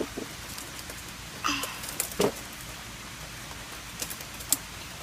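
Rain falls outdoors around a car, a faint, soft hiss dotted with a few sharper drops and light taps, quiet and unbroken, with no talk.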